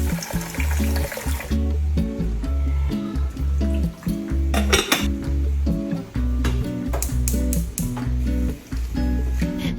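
Water splashing and swishing in a small cooking pot while rice is rinsed, in short bursts, with faint background music.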